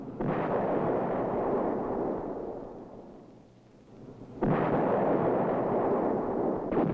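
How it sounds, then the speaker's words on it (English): A 105mm howitzer fires twice, each shot a heavy booming blast that rolls out into a long rumbling decay, the two roughly four seconds apart and loud, with a third beginning at the very end. "Reliable 105mm howitzer"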